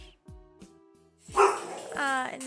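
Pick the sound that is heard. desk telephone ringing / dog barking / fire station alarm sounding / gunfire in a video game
dog barking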